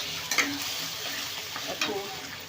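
A sauce mixture for chilli chicken poured into a hot frying pan, bursting into a loud, steady sizzle with a couple of stirring scrapes.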